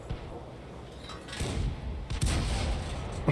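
Tank cannon fire from a tier 4 tank in World of Tanks booms out twice in quick succession, heavy and close, each blast leaving a rumbling tail.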